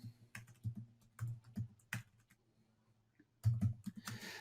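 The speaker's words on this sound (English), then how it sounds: "This is the part where I would type in." Fingers type on a computer keyboard in bursts of quick, close clicks and key taps, with short pauses between runs; a faint voice is barely present.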